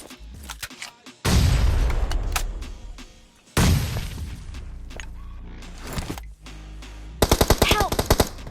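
Gunfire and explosions in a BGMI (PUBG Mobile) firefight, with loud blasts, rapid automatic bursts and debris-like crashes in close succession, ending in a fast machine-gun volley.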